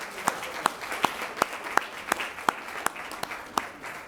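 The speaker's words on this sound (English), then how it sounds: "Let's give him a round of applause." Scattered applause at an evening school board meeting, with about eleven separate, fairly loud claps spaced unevenly across the stretch, sounding like a small group clapping rather than a full crowd.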